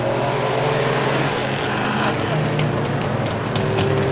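A VW Polo TSI races a BMW on a track, with a steady, loud engine drone and a rising tone running throughout, plus some faint background chatter.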